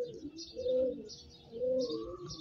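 Fancy pigeons, including yellow Danish birds with chicks nearby, give soft cooing calls that swell twice in slow rhythm, with faint chirps over a low murmur of background noise.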